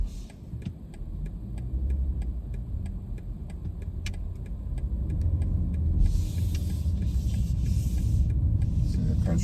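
A 2024 BMW X6 rolls along a suburban road with a low, steady engine and road rumble heard from inside the cabin, plus a regular ticking like a turn signal, quiet and without talking.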